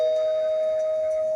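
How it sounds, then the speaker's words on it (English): A doorbell rings with a single sustained electronic tone, loud and close, holding steady for over a second with no voices over it. "The doorbell is ringing"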